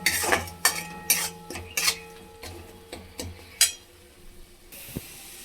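Spice paste stirred and fried in oil for a pointed gourd malai curry, with a series of sharp metallic scrapes and knocks of a spoon on the pan over a faint sizzle, ending in a brief hiss.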